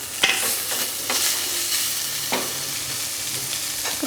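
Potatoes fry in margarine in a pan with a steady, close sizzle and a few sharp spatters and pops, and no one talks.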